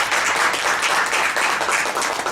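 Audience at a lecture on YouTube creators gives a short, full round of applause, dense and evenly loud throughout with no talk over it.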